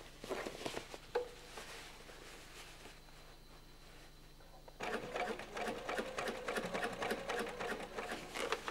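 A sewing machine topstitching the side seam of jeans, heard as a fast rhythmic needle chatter in short bursts, with a quieter pause and then a louder continuous run of stitching near the end.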